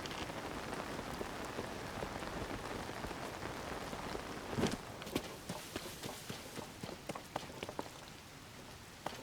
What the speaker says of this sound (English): Okay, come on, stop raining.